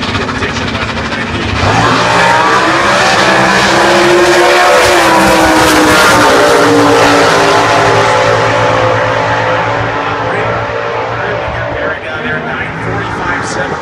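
A small-tire 2010 Dodge Challenger drag pack with a 345 cubic inch Gen 3 Hemi races down the strip at the U.S. Nationals, its loud engine roar surging after two seconds, holding strong, then fading away.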